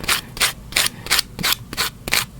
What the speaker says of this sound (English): make sure you get one of the sponge sanding blocks like this from 3M